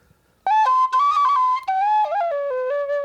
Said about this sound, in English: Started learning Irish flute.